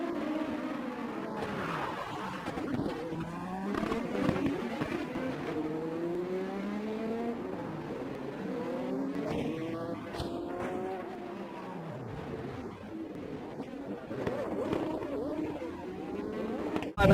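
Race cars on a mountain motorsport course whine and rev in rising and falling sweeps, engines passing one after another at moderate distance, with faint commentary underneath.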